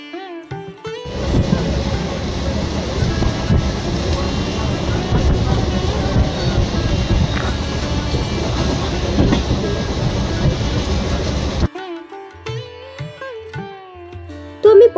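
A morning passenger train heading toward Belur station rumbles and clatters loudly for about ten seconds from onboard, then the roar drops away, leaving quieter, scattered ambient sounds.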